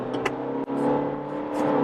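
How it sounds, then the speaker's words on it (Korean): Kia Carnival diesel engine revving hard after a downshift on a mountain road drive, a loud continuous engine drone with road and wind noise inside the cabin. "엔진이 굉장히 힘들어하는 것 같지만 시프트 다운을 한번 해주면"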